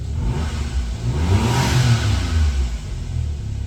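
A 1996 Suzuki Jimny's small K6A turbo engine revs up and back down at cold start, with a faint turbo whistle and intake whoosh over the steady growl.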